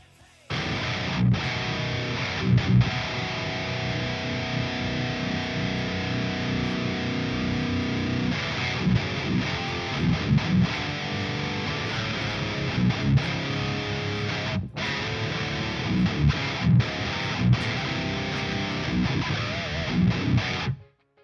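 A loud, steady ska punk track with driving distorted guitar and punchy drums, a brief drop near the middle, then it kicks back in.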